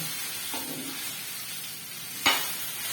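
Okra frying in oil in a pan for a Kannada-style palya, a steady soft sizzle throughout with brief stirring scrapes and one sharp clatter near the end.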